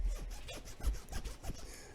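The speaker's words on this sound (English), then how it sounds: "That's a zipper." A clothing zipper pulled in several quick rasping strokes, close and fairly quiet, with no talking over it.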